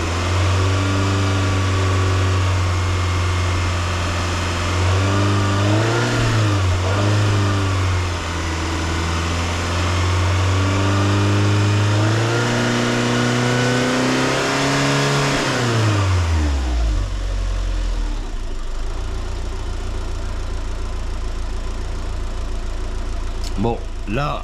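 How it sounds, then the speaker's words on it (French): A car engine idles and is revved repeatedly during a head gasket test, its tone rising and falling in several swells before dropping back to a low idle, with faint talk underneath. "On va repousser un peu les gaz."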